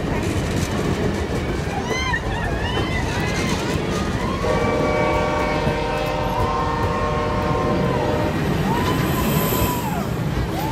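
A train rolls past with a loud continuous rumble and a long sustained horn blast in the middle, ending in a shorter horn note, while voices can be heard faintly underneath.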